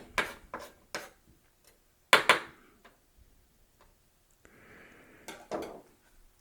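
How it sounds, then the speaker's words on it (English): Knife roughly chopping raisins on a board while making ginger wine: a few sharp, close chopping knocks in quick bursts, with a short soft rustle between them and no talking. "let's give our raisins a rough chop"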